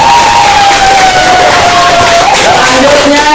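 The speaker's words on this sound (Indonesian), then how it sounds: "Tepuk tangan untuk kelompok." A student group in a classroom gets loud applause and cheering from children, a dense, constant crowd noise close to the recorder, with a whistle-like tone running through it.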